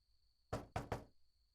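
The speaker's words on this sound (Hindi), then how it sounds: "हयात सुनो, दरवाजा खोलो।" Three sharp knocks on a door in a quiet room, delivered in quick succession during a Hindi home drama scene, close and isolated with a faint steady tone behind.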